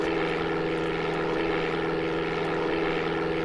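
Propeller airplane engine from the Amiga game Flight Simulator II, a steady droning hum with a strong low tone and buzzing overtones, continuous and even throughout with no talking.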